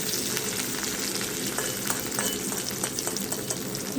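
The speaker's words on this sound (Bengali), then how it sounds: "এটা একটু ভেজে নেব" Noodles frying in a pan with chili and onion give a steady, close sizzle with faint crackles and a few light stirring taps, and no voices.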